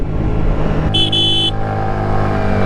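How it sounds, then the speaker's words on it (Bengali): A motorcycle engine-brakes in fourth gear on a long road ride, its steady engine drone running throughout, with a short horn toot sounding partway through. "ইঞ্জিন ব্রেকে 4 গিয়ারে আছে।"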